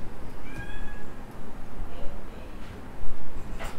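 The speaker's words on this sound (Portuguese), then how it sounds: "essa gatinha querendo passear" A female kitten meows a couple of times, short high-pitched cries standing out over a steady background hiss with no speech.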